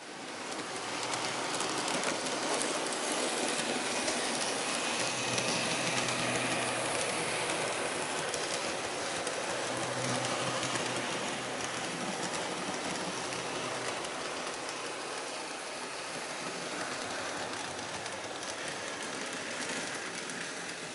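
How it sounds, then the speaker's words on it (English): An N scale model train running on a home layout, giving a steady, faint rolling rumble with light clickety-clack from the small wheels over track joints, continuous and unaccompanied by talk. "we finally got a train running"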